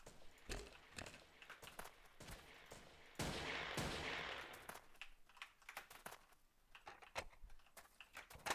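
SMG gunfire in the video game Ace of Spades on the Normandie map: a quiet, distant burst of rapid automatic shots, then scattered short pops and clicks.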